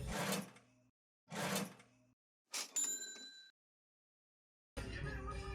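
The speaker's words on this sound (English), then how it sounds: "Unlike Goodwill, they will give a price at the cash register at this store." A cash register at a thrift store checkout gives several short mechanical bursts separated by silences, then a ringing chime and a final stretch of clattering, all fairly faint and close.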